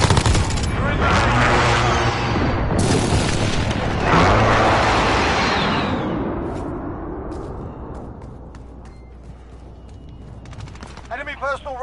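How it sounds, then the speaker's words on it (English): Precision airstrike explosions in Call of Duty Modern Warfare pound through with rapid gunfire and heavy booms, loud and dense at first, then fading into scattered shots and debris. "Enemy precision airstrike"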